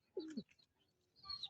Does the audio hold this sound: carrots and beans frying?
no